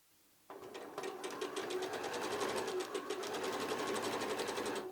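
A sewing machine starts up and stitches steadily through a quilted patchwork notebook cover, a close, fast, even mechanical hum with a rapid ticking needle rhythm running to the end.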